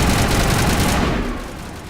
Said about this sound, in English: gunfire is just significantly louder than everything else in the game